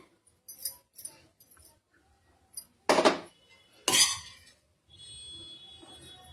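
Hot food is shifted into another vessel for shaping into stuffed balls, giving light spoon and dish clinks, then two loud close scraping clatters of metal on metal, followed by a faint steady hum.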